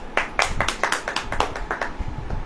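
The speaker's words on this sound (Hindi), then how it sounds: "ताली बजेगी ना?" Audience applause at a Hindi Christian sermon gathering: a brisk run of close, crisp handclaps from a small crowd, steady and uneven in rhythm, continuing for the whole stretch.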